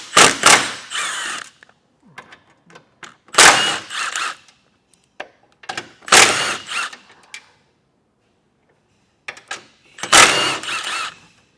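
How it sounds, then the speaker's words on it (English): A 15mm socket on a ratchet or power driver takes out the bumper bolts on a 2025 Buick Encore GX in four loud, close bursts of whirring and clicking, with short ticks and pauses between them. "take a 15mm socket and remove our bumper bolts"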